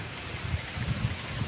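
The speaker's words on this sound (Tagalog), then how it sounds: "mahangin dito" Wind gusts buffet the microphone on a riverbank among trees, producing low, uneven rumbling puffs over a soft steady hiss of rustling foliage, fairly faint and with no one talking.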